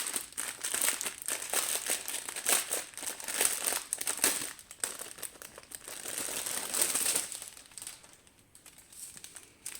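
Plastic bags of diamond painting drills being opened and handled, giving a steady run of close crinkling and rustling for most of the stretch before it thins out near the end.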